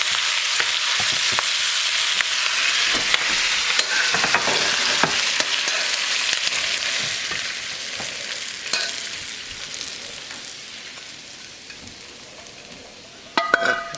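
Crispy shrimp and scallops stirred in a hot pan, a loud bright sizzle with frequent scraping and tossing strokes that fades gradually, ending in a short burst of clatter, close and without talk.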